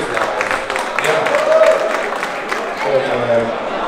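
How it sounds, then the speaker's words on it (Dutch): An audience at a herring auction in Kampen breaks into applause, a steady wash of many hands clapping at moderate loudness while people keep talking over it. "Applaus, mensen."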